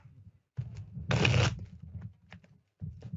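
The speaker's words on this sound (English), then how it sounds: "just listening to me shuffle cards?" A deck of playing cards shuffled close by, a brief dense riffle burst surrounded by softer card handling and tapping, with no voices.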